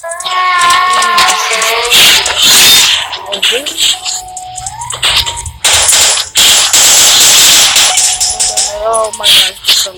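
Pistol gunfire in a 3D shooting video game, rapid loud bursts of shots in quick succession, mixed with game sound effects and a voice speaking between shots.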